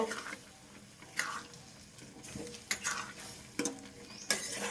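Vegetable curry with dal, cooked in a pan, is stirred with a spoon that knocks and scrapes against the metal in several distinct strokes over a soft, low sizzle.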